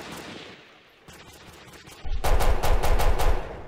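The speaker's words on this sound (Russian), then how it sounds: "вот в упор стреляет пулемет, он не падает" Machine-gun fire in a fantasy shooter game: a few scattered shots, then a dense, loud, rapid burst of automatic fire lasting over a second.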